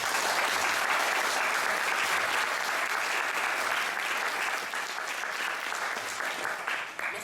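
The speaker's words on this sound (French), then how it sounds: "Je vous demande de bien vouloir l'applaudir." Steady, full applause from a conference audience greeting Sonia, a broad wash of many hands clapping that holds evenly throughout before thinning slightly at the close.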